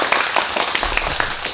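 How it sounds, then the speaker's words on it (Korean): Audience clapping at a summer-vacation children's history book concert, welcoming a travel writer to speak; moderate scattered claps with distinct individual hand strikes, fairly close, no talking over it. "박수로 청해 듣겠습니다."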